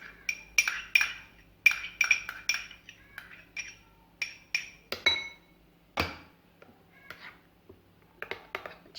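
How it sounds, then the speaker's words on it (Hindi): A mayonnaise dip with garlic powder, coriander leaves and spring onion is stirred in a bowl, making a rapid series of close clinks and taps of a utensil against the dish with short pauses, without speech. "अच्छी तरह से मिक्स करेंगे।"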